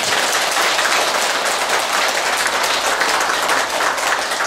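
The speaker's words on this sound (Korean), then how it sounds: "불자 여러분들께서는 모두 큰 박수로 스님을 환영해 주시기 바랍니다" Large audience at a Buddhist New Year dharma assembly breaking into sustained applause to welcome a senior monk, a dense, steady wash of clapping that holds loud and even throughout.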